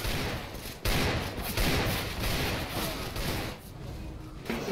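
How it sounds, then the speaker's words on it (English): Rapid Desert Eagle pistol shots in a CS:GO deathmatch, a dense burst of loud cracks and overlapping gunfire from several players, near and far, with short gaps between volleys. "This is how you use a deagle."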